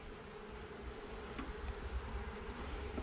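A honeybee hive opened during an early-December inspection gives off a loud, dense, continuous buzzing drone from many bees close by, steady across the whole stretch.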